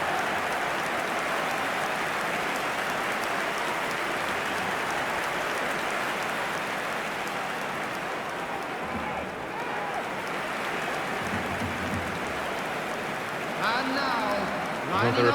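Stadium crowd ambience at the Allianz Arena in the eFootball video game, a dense steady roar of a capacity crowd filling the whole stretch, with a commentator talking over it.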